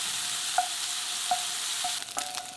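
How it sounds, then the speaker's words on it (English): Steady high-pitched frying hiss of chopped bacon in a frying pan, with a few soft clinks of a utensil stirring, getting busier near the end. "add in the chopped bacon and fry for 5 minutes until lightly browned and slightly crisp"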